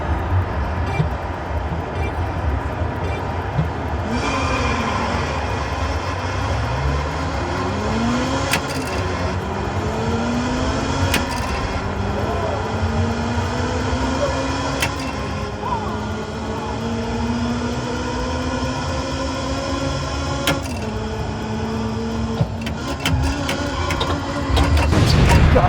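Engine revving from an arcade racing cabinet with a gear shifter at an expo, rising and falling engine tones climbing through gears again and again, steady and fairly loud against a busy arcade background hum.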